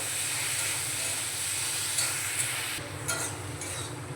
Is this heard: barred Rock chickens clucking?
no